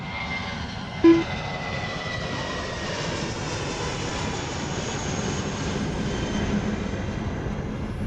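An aircraft passes overhead near an airport, a broad steady engine roar that builds slightly toward the end, heard from outdoors at moderate distance with a brief thump early on.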